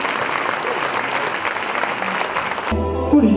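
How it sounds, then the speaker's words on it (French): Applause from an audience at an evening party, the 2016 soirée rose: dense, steady clapping for close to three seconds that stops abruptly, followed by quieter tones and movement. "Madame Iti, sur un applaudissement."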